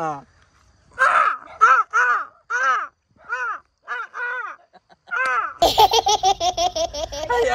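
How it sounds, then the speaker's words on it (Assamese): A series of harsh, nasal crow caws in quick succession, followed by a louder burst of rapid, laughter-like calls. "কাউৰীয়ে মাতি দিছে ইয়াক"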